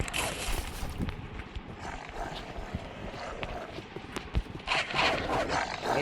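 A horse gallops in the video game West Bound, rapid clip-clop hoofbeats over a dense, noisy game soundscape.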